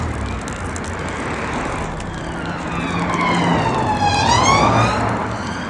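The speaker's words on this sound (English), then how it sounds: "Look, the police car coming." A police car siren passes on a street in Manchester, its wailing tone sweeping up and down and growing louder as it nears, over steady road traffic noise, with no talk.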